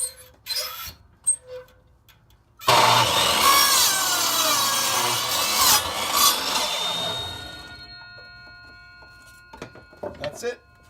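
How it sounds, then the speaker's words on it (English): Hand saw rasping through wood to cut sawhorse legs, a steady run of close, loud back-and-forth strokes lasting several seconds, with a few knocks and handling noises before and after and brief talk. "This is my final cut, and then I'm done cutting."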